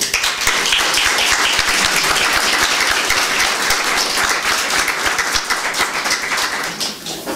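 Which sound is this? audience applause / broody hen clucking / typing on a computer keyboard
audience applause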